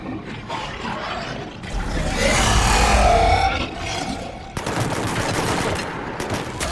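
Gunfire in the video game Mass Effect 3, dense bursts of loud shots with a roaring mid-section, sustained across the whole stretch with no pauses.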